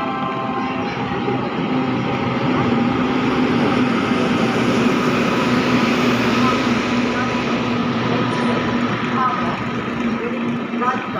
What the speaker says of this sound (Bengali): এখন আমাদের ট্রেন চলে আসলো মালদা টাউন স্টেশনে